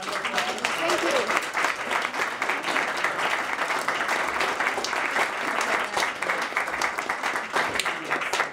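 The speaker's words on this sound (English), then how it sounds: "give a round of applause" Steady audience applause at a talk on beavers as nuisance or opportunity, dense overlapping clapping held at an even loud level throughout with a brief voice near the start.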